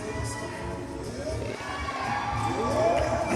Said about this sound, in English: You can hear the crowd getting behind her.